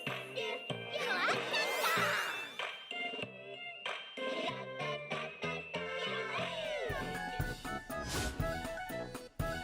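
A cat meows repeatedly inside a dense, busy game soundtrack with chiming, tinkling tones and clattering, the meows sitting within a constant wash of music and effects.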